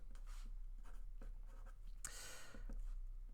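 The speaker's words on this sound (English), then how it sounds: "let's just write that definition" Marker or chalk strokes scratching across a board as a definition is written in a geometry lesson on parallelograms, a series of close, short bursts of writing with one longer, louder stretch of strokes near the middle.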